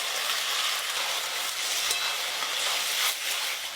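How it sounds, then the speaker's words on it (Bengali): Continuous close hissing sizzle of taro greens cooking down in a pan for a dish with fried hilsa fish heads, with occasional soft stirring scrapes and no talking. "অনেকক্ষণ থেকে নাড়ছি, জলটা অনেকটাই শুকিয়ে এসছে। এবার ভেজে রাখা ইলিশ মাছের মাথাগুলো দিয়ে দেবো।"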